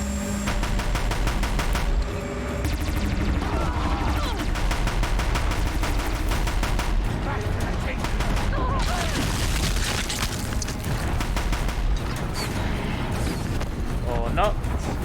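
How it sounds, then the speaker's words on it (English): The Deathbringer gun fires continuously in Horizon Zero Dawn, a loud, relentless stream of booming shots and blasts, with a voice talking over the din. "let's use the Deathbringer gun to take down the people"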